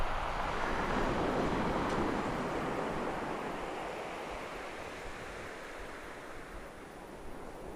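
Strong wind roars across the chalk cliffs at Birling Gap as a broad, loud, continuous rush that buffets the microphone and eases slightly toward the end.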